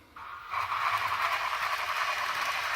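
A model train locomotive runs back down a grade on a layout. Its hissing, rattling sound-unit noise starts faintly and then swells to a steady, fairly loud run.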